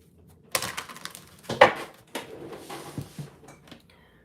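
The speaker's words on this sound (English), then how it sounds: "Let me give these a good shuffle." Tarot cards being shuffled, a few irregular papery riffles and slaps in short bursts with quiet gaps between, close and moderately loud, no talk.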